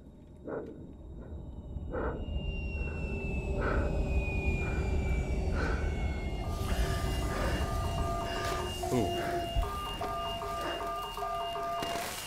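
A train in the video game SOMA rolls along with a low rumble and rhythmic clatter, and tonal electronic beeps and signals join partway through over the steady moderate noise.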